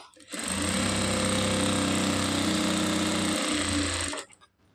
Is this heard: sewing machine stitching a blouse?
yes